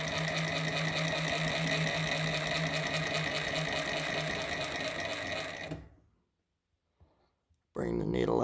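A Techsew 2700 Pro cylinder arm sewing machine stitches at speed with a rapid, even mechanical clatter, close and loud, then stops abruptly into near silence before a brief noise returns at the end.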